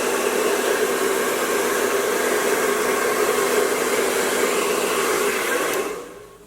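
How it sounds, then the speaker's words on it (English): A handheld blow dryer aimed at a short pixie quick weave, a loud steady rushing whoosh held close for several seconds before it cuts off abruptly near the end. "it with the blow dryer."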